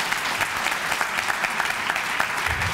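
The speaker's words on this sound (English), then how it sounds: "can I get applause for these wonderful panelists?" An audience at a panel event claps for the panelists, a dense, even wash of many hands applauding steadily throughout with no speech above it.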